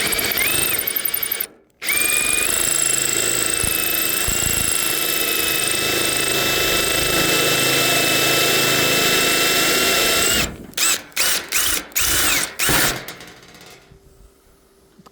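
A power drill with a worn-down bit boring into a meteorite whines steadily at high speed for several seconds, then cuts off and restarts in a series of short bursts before stopping.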